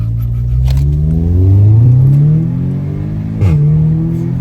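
An Audi A3 with its exhaust silencer removed revs up loudly with rising harmonics, then drops with sharp exhaust crackles and pops before settling into a throaty idle rumble.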